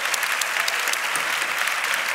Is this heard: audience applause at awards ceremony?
yes